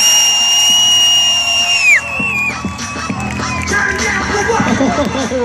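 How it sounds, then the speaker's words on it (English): Crowd at a Tough Trucks event cheering and whooping for competing trucks, a loud, steady roar of voices with scattered shouts, near and sustained. "Let's cheer them on."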